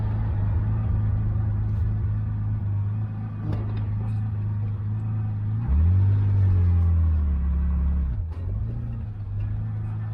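An air-cooled 1973–89 G-body Porsche 911 drives with a steady low engine rumble, and the note swells as it accelerates and drops back as it settles, heard close from inside the car.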